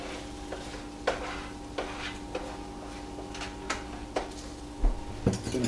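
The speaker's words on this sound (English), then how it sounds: "Finish mixing my egg." Eggs are whisked in a bowl with a fork or whisk, quick scraping strokes and occasional sharp clinks against the side, while something sizzles softly in a pan.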